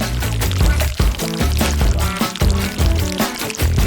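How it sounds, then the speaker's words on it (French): Liquid jelly poured into a round cake mould, a continuous loud splashing pour at close range lasting a few seconds with no voice over it. "Je verse la gelée."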